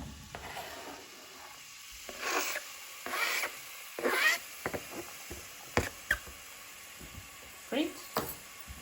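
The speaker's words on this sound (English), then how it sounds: "I'm gonna go ahead and add these finely chopped onions." Finely chopped onions hit hot oil in a pan on a stove, giving a close sizzle that swells in short bursts with stirring and clatter, while a person talks over it.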